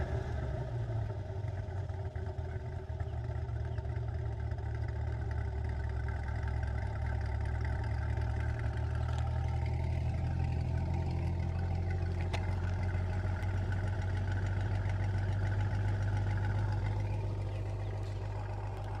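A Corvette C8 engine idles with a steady, low, even rumble that holds constant the whole time, with no voices over it.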